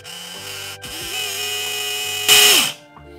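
WLtoys K989 RC car with newly fitted metal bearing differentials, its small electric motor whirring at a steady pitch and then revving sharply higher near the end before cutting off, close and loud with no talk.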